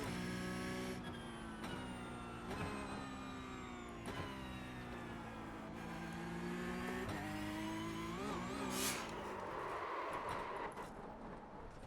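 A Porsche Cup race car in the iRacing sim at Imola, its engine droning and revving steadily with repeated upshifts and rising pitch, loud and continuous with no talk over it.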